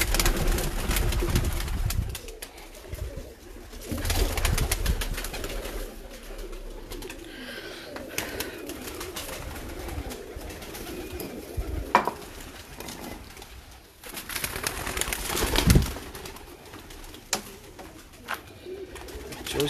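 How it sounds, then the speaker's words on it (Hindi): Pigeons coo inside a breeder's loft in Sialkot, soft repeated throaty calls mixed with rustling, wingbeats and scattered clatter, the birds close by with no talking. "आपको दूसरे कबूतरों का शौक कराते हैं जहाँ मेरे तस्वीर वाले कबूतर हैं ज़्यादातर"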